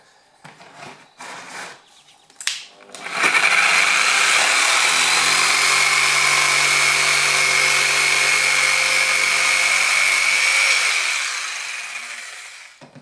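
A Triton TJS001 jigsaw cuts in pendulum mode 3, starting after a few seconds of handling noise and then running as a steady, loud, close buzzing whine for about eight seconds before tapering off, with no voices.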